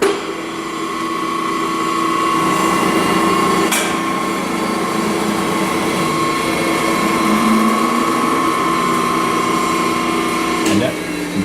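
A K.O. Lee S1024N3 three-axis servo-driven CNC surface grinder runs its spindle under program, producing a steady, loud, close whine and hum with a couple of brief sharp knocks.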